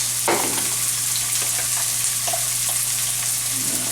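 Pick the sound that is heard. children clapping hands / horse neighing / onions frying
onions frying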